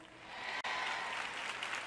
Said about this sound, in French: Vous applaudissez tous